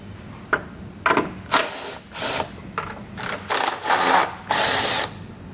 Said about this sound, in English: we're going to take our 10mm socket, we're going to remove the bolts holding this plastic piece on.